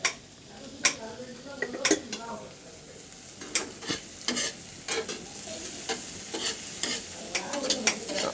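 Food fried in ghee is stirred in a metal pan, with sharp, irregular clinks and scrapes of a spoon against the pan over a steady sizzle, close and clear, with faint talk now and then.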